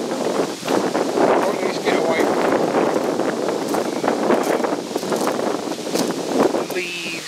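Gusty wind buffets the microphone at an old wartime airfield, a steady loud roar with rustling trees, while someone speaks intermittently over it.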